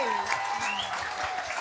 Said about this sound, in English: I'd just like to give a really loud, mad fest round of applause to our panel